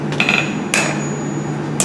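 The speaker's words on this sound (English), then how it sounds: "This also is a nice opportunity to tilt your hammer and kind of blend some of these edges and create a better round shape." Three sharp hammer blows ring out on metal while a handle is forged, unevenly spaced and loud against a low steady hum.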